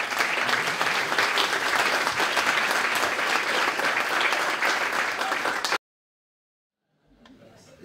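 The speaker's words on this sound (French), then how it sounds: "je voudrais partager les applaudissements avec elle" Audience applause at an anniversary event for a climate-activist group, dense sustained clapping from a full room that stops abruptly, followed by near silence and a faint rustle.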